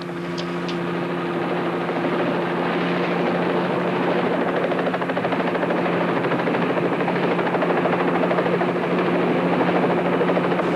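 A helicopter drones steadily overhead, its rotor thrum and engine tone holding a constant, loud level throughout.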